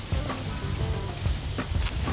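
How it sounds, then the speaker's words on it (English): Food sizzles on a grill over a wood fire, a garlic rub cooking into it, giving a steady close hiss with a few sharper crackles and pops throughout. "Oh yeah, that sizzle."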